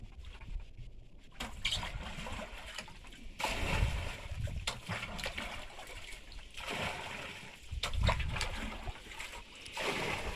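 A bucket scooping rainwater out of a flooded boat, repeated sloshing and splashing pours in an uneven rhythm, close and fairly loud against steady outdoor water noise.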